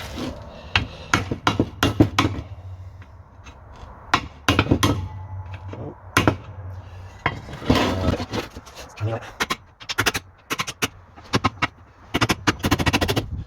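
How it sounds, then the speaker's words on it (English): Chisel hammered to peel out a rear wishbone bushing on a 2004 Audi A4 B6, sharp metallic hammer blows in irregular bursts and clusters, close and loud, with people talking between strikes. "with the chisel. I'll hold it down at the same time."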